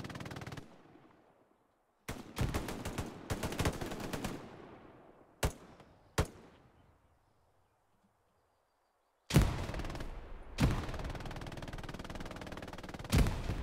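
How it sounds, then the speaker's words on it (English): Gunfire in a video game shooter match, with bursts of rapid automatic fire broken by brief single shots and quiet gaps, loud and close, ending in long sustained volleys of covering fire. "laying down good cover fire"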